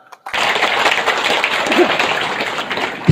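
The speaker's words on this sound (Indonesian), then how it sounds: "Tepuk tangan dulu." A crowd bursts into sustained applause, dense clapping filling a large room for a few seconds.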